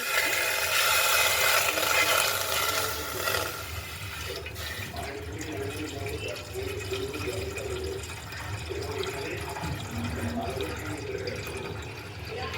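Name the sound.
water poured into an aluminium pot for syrup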